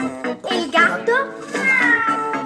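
A human voice imitates a cat, giving a string of drawn-out sliding meows in a playful singsong tone, close and clear.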